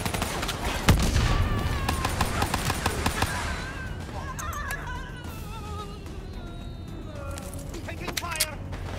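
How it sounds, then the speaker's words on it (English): Rapid video-game gunfire crackles in dense bursts of sharp shots, loudest early on and then continuing more sparsely under game sounds, with voices talking over it. "Taking fire"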